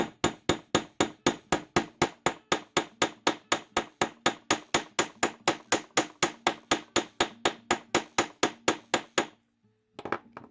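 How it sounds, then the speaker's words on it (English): A hammer flattens wire in rapid, even blows, around thirty sharp metallic strikes in a steady rhythm, loud and close, then a brief pause and a couple of small clinks. "and hammer this"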